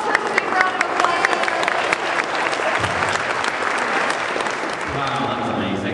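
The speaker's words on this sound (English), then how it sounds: "Give my whole church a big round of applause." A large audience at a science teachers' conference keynote gives a loud, sustained round of applause, dense clapping throughout with voices and cheers mixed in toward the end.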